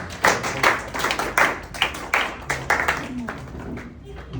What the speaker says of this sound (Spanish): Así que fuertes palmas para el compañero Aurelio.